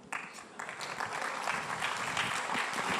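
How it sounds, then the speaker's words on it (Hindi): Audience applause at a Bollywood interview event, a dense, steady wash of clapping that starts almost at once and carries on loud and unbroken to the end, with no talk over it. "और आप लोग अगर ताली बजाएंगे"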